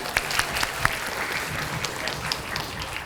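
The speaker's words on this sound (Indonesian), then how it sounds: "Baik, adik-adik di babak kesempatan kali ini tepuk tangan dong." Students at a junior high school quick-answer quiz contest clap together in sustained, dense applause lasting a few seconds, fairly loud and close, with no speech over it.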